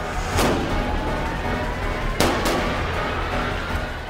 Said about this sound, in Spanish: Detonación de granadas.